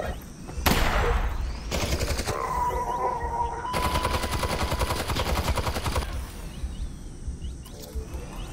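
Enemy gunfire aimed at the player in the VR game Half-Life: Alyx, loud sustained automatic bursts with a sharp opening shot and rapid rattling volleys over several seconds, then fading to quieter scattered noise.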